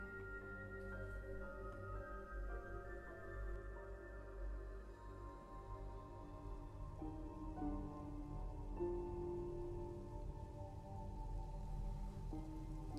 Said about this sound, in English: Notice the sound of the rain easing back in.